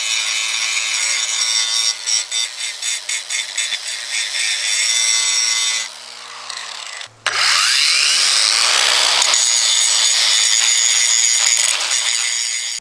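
An angle grinder with its handle removed cleaning up a steel chimney collar on a narrowboat roof, a loud high whine with stuttering cuts, a short pause, then the grinder spinning back up and grinding steadily.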